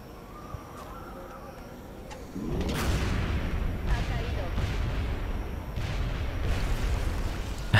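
A sector pod blows up in the video game XCOM Enemy Within, a sudden heavy boom that rolls into a long, loud rumbling blast over quiet game ambience.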